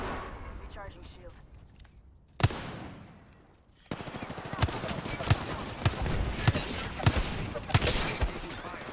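Rapid automatic gunfire from a shooter video game, a sharp loud burst followed by sustained rattling fire with distinct shot peaks, mixed with dense game effects.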